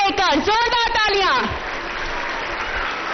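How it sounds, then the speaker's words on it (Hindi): After a woman's spoken announcement, an audience at a BSF golden jubilee celebration in Jaisalmer breaks into steady, moderately loud applause that carries on evenly to the end. "जोरदार तालियां"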